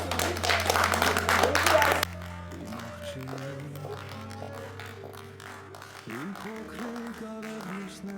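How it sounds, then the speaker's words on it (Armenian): Guests at a celebration for Syuzi's red diploma clap loudly for about two seconds, then the applause drops off and voices and background music carry on. "ծափեր տանք ուրա Սյուզի"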